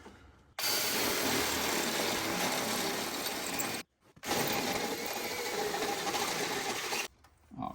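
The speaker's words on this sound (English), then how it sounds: "Time to drill out this front mount hole." A power drill bores out a front mount hole in a truck frame during a 6-inch Rough Country lift install, whining loudly and steadily in two long bursts split by a brief stop.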